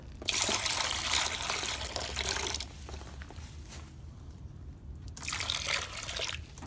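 Water pours and trickles into a mason jar waterer, strong splashy bursts at the start and end with a quieter dribble between, nearby and alone.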